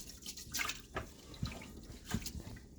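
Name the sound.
washing food under running tap water to remove starch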